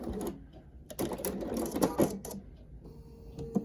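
A sewing machine stitches a quarter-inch seam on a caregiver quilt, quiet bursts of rapid needle clatter starting and stopping, close and fairly faint.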